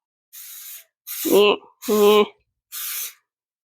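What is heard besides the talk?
spraying at the kitchen sink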